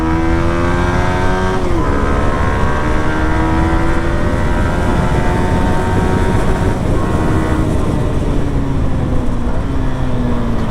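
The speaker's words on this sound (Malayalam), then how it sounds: "ജസ്റ്റ് ഞാൻ കൈ കൊടുത്ത് ഓടിച്ചിടാം. സ്റ്റോക്ക് സൗണ്ട് തന്നെയാണ്." A stock-exhaust Yamaha R15 V3 with a full R1-style body kit pulls steadily and loudly close by. Its engine drone climbs in pitch through the gears, with brief dips at each shift.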